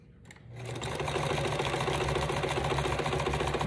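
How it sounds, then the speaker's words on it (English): After a brief pause, a sewing machine whirs into a steady, fast rhythmic chatter as it stitches along the edge of a fabric pocket, running close and alone without speech. "because I have my machine right here, I'm just gonna sew it really quick"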